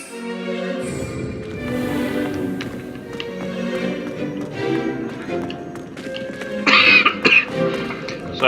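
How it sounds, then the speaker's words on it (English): A person coughs and clears their throat repeatedly over game sounds from Hogwarts Legacy on PC, with harsh bursts growing louder near the end. "Sorry about my coughing."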